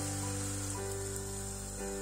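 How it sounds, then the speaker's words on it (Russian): Eggplant fries in hot oil with a steady, faint sizzle that runs continuously under a low, constant hum. "Обжариваем баклажан до золотистой корочки."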